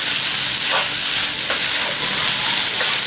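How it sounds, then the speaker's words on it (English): Chicken pasta with spinach being stirred in a hot pan, steady sizzling frying noise throughout with a few soft utensil scrapes at intervals, close and fairly loud, no talking. "Let's mix this well."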